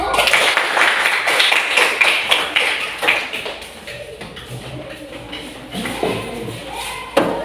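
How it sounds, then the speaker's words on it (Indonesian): A primary school class claps for a student group, a loose patter of many hands that is busier at first and thins into scattered claps and taps, with some faint voices in the room. "Berikan tepuk tangan untuk kelompok 1."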